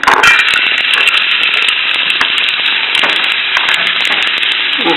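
Red onion sizzles steadily in a hot pan of oil, a loud, dense, continuous crackle up close, with scattered pops and light stirring scrapes and no voices.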